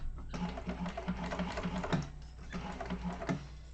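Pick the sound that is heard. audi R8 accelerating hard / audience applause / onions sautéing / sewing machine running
sewing machine running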